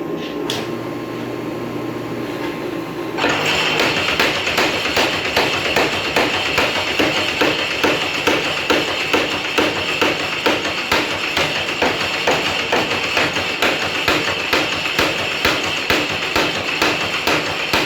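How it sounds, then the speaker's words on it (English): Rapid, steady hammer blows on a hot steel blade fresh from a forge, dozens of close, loud metallic strikes in an even rhythm for over fourteen seconds after a brief quieter opening. "Take this one out and go back to hammering."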